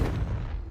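A Confringo blasting spell cast in Hogwarts Legacy bursts out as a single loud, close boom with a heavy low rumble that decays quickly.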